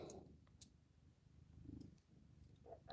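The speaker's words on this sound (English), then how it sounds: "Why is my cat purring so loudly?" A pet cat purrs loudly and steadily at close range, a continuous low rumbling vibration with soft breathy pulses, no talking over it.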